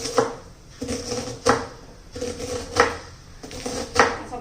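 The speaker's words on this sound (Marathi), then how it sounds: "आता त्यासाठी आपल्याला एक कांदा चिरून घ्यायचा आहे" A knife chops an onion on a board with about six sharp, evenly spaced cuts, close and clear, with no voices.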